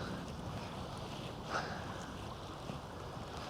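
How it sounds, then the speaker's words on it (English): Steady wind blowing across an open shoreline during a sunny bass and ray fishing session, a constant broadband rush with a brief gust swelling near the middle, heard alone without talk. "the wind's going to be a pain in the ass"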